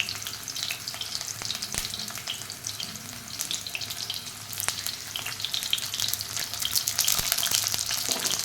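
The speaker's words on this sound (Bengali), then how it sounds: "তেলের মধ্যে আমি করলাগুলো দিয়ে দেবো।" Torn pieces of seeded bitter gourd (karela) frying in hot oil give a steady, dense sizzle with crackling pops, rising slightly louder toward the end, with no talking.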